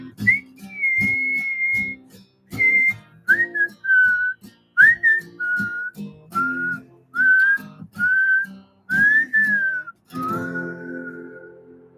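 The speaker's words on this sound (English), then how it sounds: "So here we go. We're gonna whistle." A person whistles a solo melody where a harmonica or saxophone part would go, during a quarantine-era livestreamed country concert, with close, clear phrases separated by brief pauses and soft guitar backing underneath.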